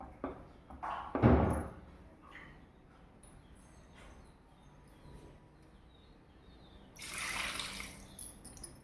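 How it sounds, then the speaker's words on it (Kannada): Water is poured into a pot of lentil curry with field beans, giving a faint trickle and a louder gushing splash near the end, along with a few soft kitchen knocks. "ಈಗ ಇದಕ್ಕೆ ನೀರು ಹಾಕೋಣ"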